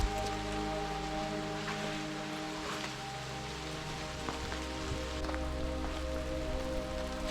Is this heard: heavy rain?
yes